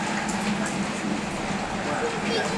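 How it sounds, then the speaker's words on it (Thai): Afternoon rain falls steadily where football fans gather before a World Cup match, a constant even hiss of drops with faint crowd murmur beneath. "ตอนนี้ฝนตกลงมาแล้ว"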